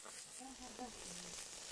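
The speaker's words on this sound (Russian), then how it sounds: "Сейчас готовится рыбка." Fish frying in a pan, giving a faint, steady sizzling hiss that continues beneath a person talking briefly nearby.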